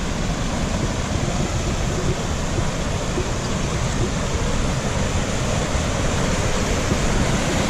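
Cowboy Falls in the Wichita Mountains flows with a steady, dense roar of falling water, a broadband rush that stays even and unbroken throughout, close and fairly loud with no voices.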